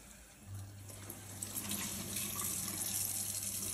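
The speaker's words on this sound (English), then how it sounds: "the process is getting this microfiber cloth, running it under water as well" Tap water runs steadily over a microfiber cloth held under a faucet, a soft continuous splashing hiss at moderate level with a faint low hum beneath, during fabric spot cleaning.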